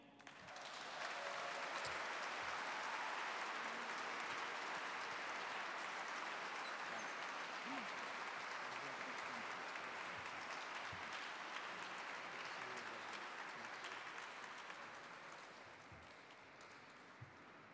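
A gala crowd breaks into a sustained round of applause, dense and even for most of the stretch before gradually tapering off toward the end.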